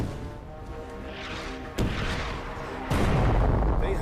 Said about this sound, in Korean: 로드니오는 16인치짜리 대포를 발사했습니다.